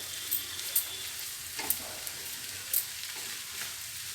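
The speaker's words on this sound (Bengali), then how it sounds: "এবার আদাটা দিয়ে সুন্দর করে কষিয়ে নেব।" Ginger paste frying with ridge gourd and other vegetables for a vegetarian dish, a continuous bright sizzle broken by several sharp spatula clicks and scrapes as it is stirred.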